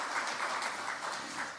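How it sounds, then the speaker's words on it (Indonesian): A crowd applauds at a PDI Perjuangan party event announcing regional head candidates, a dense, steady wash of clapping that stays loud and close throughout. "tepuk tangan yang meriah buat kita semuanya"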